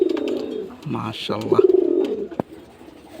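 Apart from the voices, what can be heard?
pigeons cooing in a loft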